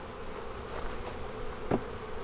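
Honey bees buzz around an opened hive box in a bee yard during an inspection, a faint continuous hum with a brief louder buzz as one passes near, no talking.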